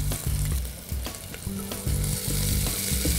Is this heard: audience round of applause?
no